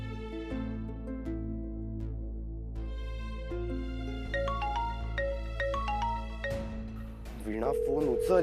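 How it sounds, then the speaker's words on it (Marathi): A phone ringtone plays a melodic tune of repeating electronic notes, moderately loud and steady, ending in a louder, busier burst near the end, with no one speaking over it. "फोन उचल यार"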